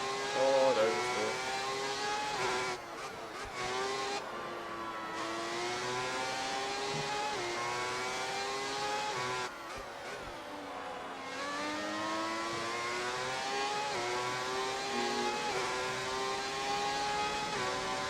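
An F1 race car engine in the F1 2018 game, career mode at the Spain circuit, screams up through the gears again and again, whining higher with each upshift, loud and continuous with brief dips between shifts.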